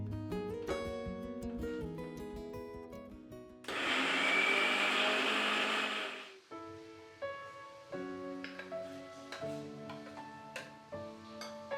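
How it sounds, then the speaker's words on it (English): An electric blender whirs loudly for a few seconds, blending a chutney of curd, ginger and warm water, then winds down between softer kitchen sounds and background music. "Blend well and it becomes a creamy texture."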